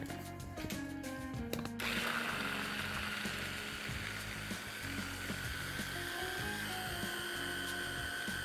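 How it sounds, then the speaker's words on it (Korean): A food processor grinds soybeans with a little water into a slurry, a steady loud whirring motor drone with a sharper high whine that sets in after a brief start and runs continuously. "여러분이 가지고 계신 푸드 프로세서를 이용해서 콩을 갈아줄 건데요"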